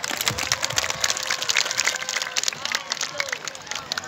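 A school audience applauds a student OSIS candidate at a junior high election event, dense clapping under background chatter and crowd noise, fairly close and steady throughout.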